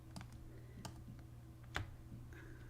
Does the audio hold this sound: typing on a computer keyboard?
yes